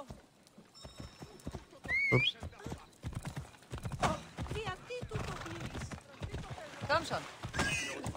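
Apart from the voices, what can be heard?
horse neighing and hooves in a video game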